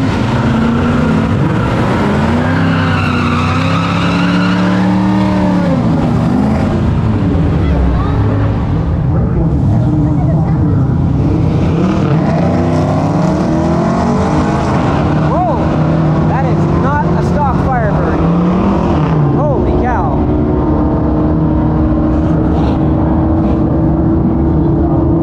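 Loud engines at the 2023 Pontiac Nationals drag racing event, with revving, passing drag cars and throaty exhaust sweeps rising and falling over the full stretch, plus crowd noise and voices around.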